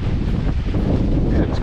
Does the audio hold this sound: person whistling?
no